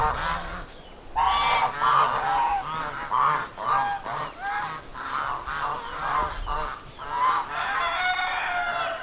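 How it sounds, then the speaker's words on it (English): Young hens cluck in a steady run of short, repeated calls, fairly close and continuing for several seconds without any talking. "Couple of the juvenile hens."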